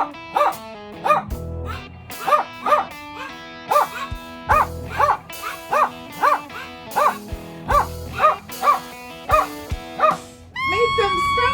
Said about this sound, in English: does the sound of barking dogs really annoy you?